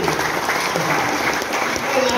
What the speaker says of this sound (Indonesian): tepuk tangan dulu buat yang di luar itu